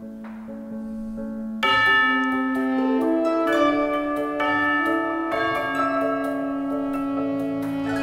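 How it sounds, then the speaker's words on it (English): Ringing bell tones layered over a sustained musical drone in a game music track, with a fuller band of bright chimes entering partway and continuing steadily to the end. "Bells, I always like bells."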